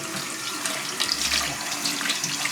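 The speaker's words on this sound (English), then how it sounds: "Alright, so we've got the pot here. I'm gonna wash this off now." Running tap water splashes steadily over a rusty old cast-iron camp oven pot being washed, a continuous close hiss and patter with no talking.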